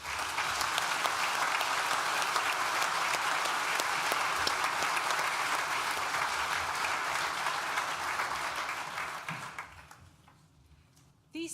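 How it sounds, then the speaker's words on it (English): Sustained audience applause at a university graduation ceremony, a dense even roar of many hands clapping for about nine seconds before fading away near the end. "Please join me in thanking them with a well-deserved round of applause."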